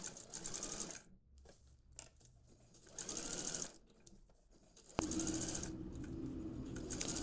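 A sewing machine stitches gathers on a blouse in three separate bursts of quick, close, whirring needle chatter, with quiet gaps between them.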